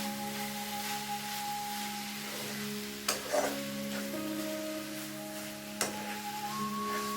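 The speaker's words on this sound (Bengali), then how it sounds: "চিনিটা দেওয়ার পর সমানই কিন্তু আবার নাড়ছি আমি।" Grated carrot halwa, sweetened with sugar, is stirred in a hot pan under a continuous sizzle, with an occasional sharp scrape of the spoon against the pan, close and steady with no talk.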